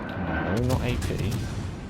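A warship fires armor-piercing shells in World of Warships, with a booming naval gun blast rolling out under a voice speaking over the battle.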